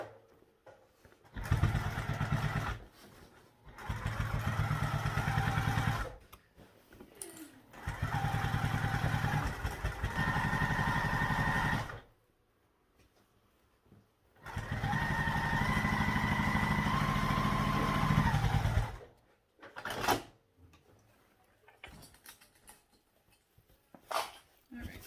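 A sewing machine edge stitches a fabric pocket in three sustained runs of steady motor hum, separated by quiet pauses and short handling clicks, heard up close.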